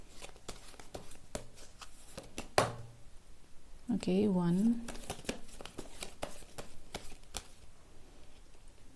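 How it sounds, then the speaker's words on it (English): Soft rustling and flicking of tarot cards being shuffled, with a few light taps, while a person speaks briefly over it. "So I'm going to shuffle some tarot cards."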